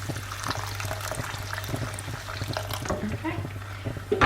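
Water pours into a pan with stock for couscous, a soft trickling splash running under a person talking, with a low steady hum in the background.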